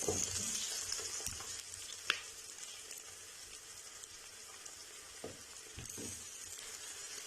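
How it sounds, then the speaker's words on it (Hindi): Whole garlic cloves fry in masala for a white kidney bean curry, giving a steady close sizzle with a few stirring scrapes and clicks, and no voices. "साबुत लहसुन को इसी तरह मसाले में भून लेंगे"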